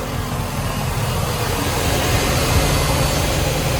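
Boat engine running inside its engine room, a dense, steady mechanical roar with deep low rumble, close and loud throughout, no talking.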